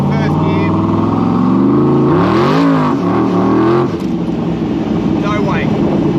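An 800hp 427SC Cobra pulls hard in first gear, its big V8 rising in pitch through a loud, continuous rev before easing off, heard from inside the car.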